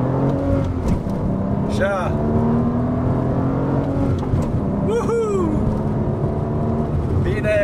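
A Porsche accelerates hard with traction control off, its engine rising and falling in a loud, continuous roar inside the cabin while people talk briefly over it.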